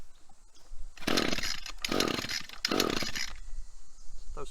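Echo SRM-225 gas string trimmer engine starts and runs in three loud revving bursts about a second long each, with quieter idling gaps between them.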